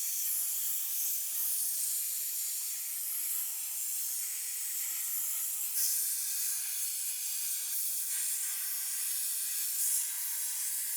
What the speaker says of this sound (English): you can get a leather seat pretty clean by just steaming it